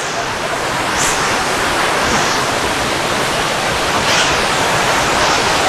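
Sanaghagara waterfall in Keonjhar, Odisha, running with strong flow gives a steady, close, full-bodied roar of crashing water, constant and unbroken throughout.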